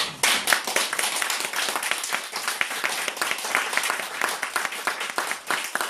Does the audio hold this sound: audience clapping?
yes